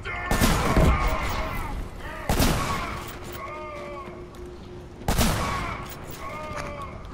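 Shotgun blasts in the first-person shooter Killzone Shadow Fall: three loud, sharp booms spaced a few seconds apart, each with a rumbling tail. Raised voices and harsher in-game sounds carry between the shots.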